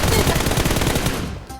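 Rapid automatic gunfire from a battle royale video game, a dense, loud continuous burst that cuts off near the end, with players' voices mixed in.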